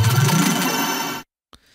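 Synthesized color bass with a stereo width sweep, a dense, bright sustained chord-like tone that slowly thins out before cutting off abruptly, followed by a brief faint blip.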